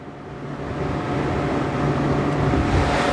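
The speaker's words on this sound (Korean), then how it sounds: "이 정도의 굉장히 정숙한 가솔린 6기통의 엔진 소음 만나보실 수 있습니다" A smooth, muffled gasoline six-cylinder engine of a 2011 SsangYong Chairman H 500S idles steadily at low volume, its drone softened through the closed hood.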